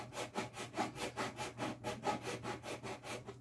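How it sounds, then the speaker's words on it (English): Hand saw cleaning out inlay slots for brass on a bass guitar, quick rhythmic back-and-forth rasping strokes at an even pace, close and fairly quiet, with no talking. "cleaning them out with the saw"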